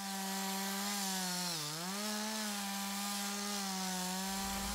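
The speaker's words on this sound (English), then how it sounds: "I'll show you my chainsaw working" A chainsaw carves a wooden sculpture, its engine a loud, steady buzzing whine that dips briefly in pitch as the blade bites into the wood, then recovers and runs on continuously.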